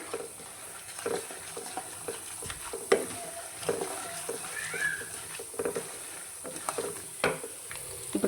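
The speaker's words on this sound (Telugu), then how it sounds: "పోపు అయితే వేగిందండి ఎండు మిర్చేస్తున్నాను" Tempering spices crackle in hot oil for pulihora, a continuous low sizzle broken by sharp pops and occasional clinks of a spoon against the pan.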